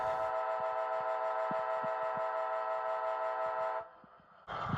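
Bachmann HO scale ALC-42 Amtrak locomotive model sounds its horn in one long sustained blast, loud and steady, then cuts off briefly before another blast starts.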